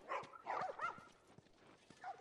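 A dog in The Last of Us gives a few short, sharp barks and yips close by, in quick bursts over roughly two seconds, with no talking.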